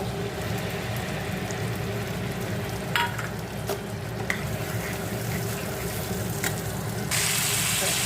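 Tomato paste frying in a pan for butter kakrol, a continuous low sizzle with occasional spoon clicks and scrapes against the pan, the hiss brightening near the end.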